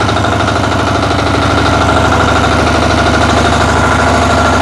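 A walk-behind tractor (motoblock) engine runs steadily and loudly throughout as the machine drives, with a constant throbbing drone and no pauses.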